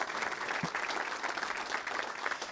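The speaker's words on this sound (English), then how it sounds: "Let's give a round of applause if you see anybody raising their hand" A room of people at a touchdown club press conference gives a round of applause for board members, a steady wash of clapping at moderate distance throughout.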